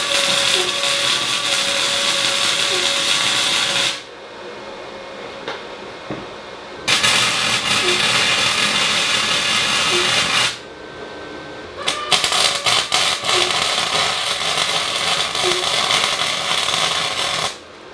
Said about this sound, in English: Now that we're welding on the frame